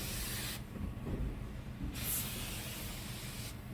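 A spray can hisses steadily into the inside of a bus window seal, with a loud, close and continuous burst of hiss that briefly lets up, then resumes.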